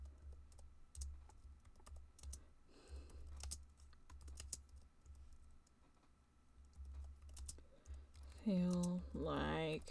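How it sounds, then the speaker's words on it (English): Fast computer-keyboard typing patters along in steady bursts of close clicks, quiet and under a low hum, while a voice speaks over it and a higher tonal sound rises near the end. "She's typing"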